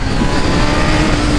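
A Honda CB1000 sport motorcycle engine runs loud and close, a steady rumbling drone with a slight rise and fall and no voices over it.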